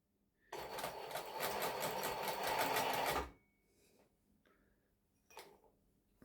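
A Singer 20U industrial sewing machine runs in a loud, rapid mechanical chatter for about three seconds, then stops, followed by a few faint clicks and a brief knock as the needle position is shifted.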